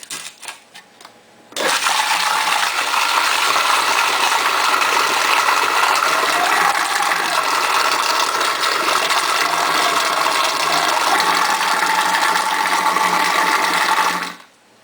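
Electric mixer smoothing Nutella cheesecake batter, a loud, steady whirring drone that starts abruptly and runs for about twelve seconds before cutting off, with no talking.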